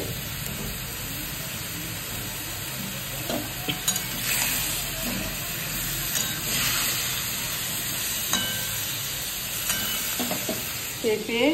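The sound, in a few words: vegetables added and stirred into chicken stew pot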